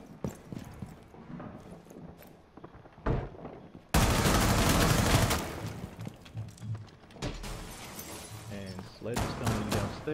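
Gunfire in a tactical shooter match on the Coastline map, heard as a loud burst of shots that suddenly fills the mix, then scattered bangs continuing under game sounds and talk.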